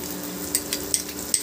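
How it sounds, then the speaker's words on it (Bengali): Masala spice paste with turmeric, chili and coriander powder frying in a pan, soft continuous sizzle with three brief spatula scrapes spaced evenly apart, close and clear with no voices. "মশলাটা আমি ভালো করে ভেজে নিয়েছি"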